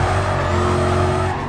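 A car drifting through a corner in the racing game Need for Speed Carbon, with a loud continuous engine roar and a sustained tire squeal held under it, close and unbroken.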